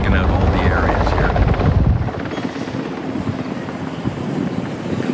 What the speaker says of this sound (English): I'm sure that's what the helicopter is investigating